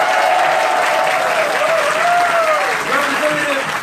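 Crowd at a nursing home strike-vote press conference breaking into sustained, loud applause and cheers for a senator, clapping dense and continuous with a voice ringing out above it.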